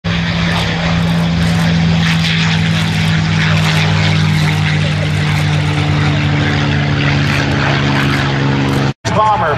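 A North American Aviation bomber with two 1,700-horsepower Wright radial engines drones loudly and steadily at an air show, with a deep, even propeller roar that cuts out only briefly near the end.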